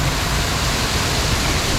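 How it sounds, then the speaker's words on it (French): An artificial waterfall beside the Lech Coaster at the Legendia amusement park, switched on and pouring as a loud, steady rushing hiss that fills the whole stretch with no pauses. "Ouais, l'allumer la cascade."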